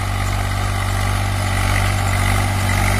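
A Swaraj 735 FE tractor runs with a tiller attached, its diesel engine holding a loud, steady, close-up drone with a strong low hum and no voices.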